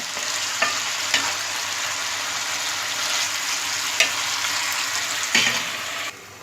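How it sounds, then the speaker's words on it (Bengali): Chicken bhuna frying in a pan over medium heat, a steady loud sizzle with a few sharp scraping clinks of a stirring utensil, ending with a sudden drop in level as the sizzle is muffled. "ভালো করে নেড়ে চেড়ে মিশিয়ে আমি এটা ঢেকে রাখছি পাঁচ মিনিটের জন্য"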